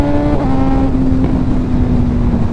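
A Suzuki GSXR600 sport bike engine drones at a steady high pitch close by, with a slight shift in tone early on, as it is ridden at speed.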